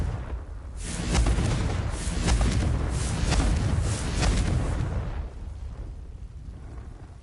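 Confringo blasting spell in Hogwarts Legacy, a series of rumbling booming blasts with crackling bursts rolling for several seconds before fading to a low roar.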